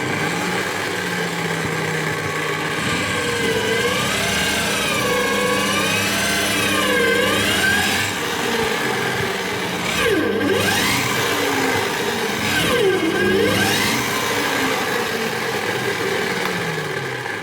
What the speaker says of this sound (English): I hope you saw how the RPMs are decreasing when the machine is under load.